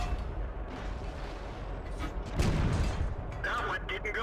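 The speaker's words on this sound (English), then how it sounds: "As an ARL-44 gets spotted, I take a few pot shots before retreating into cover." A tank cannon firing in World of Tanks gives a heavy boom with a rumbling tail in the middle, followed by mechanical clanks, all under a steady game background with someone talking.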